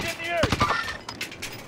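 Rapid gunshots crack through a tense firefight amid loud shouting, with several sharp bursts close together under the talk.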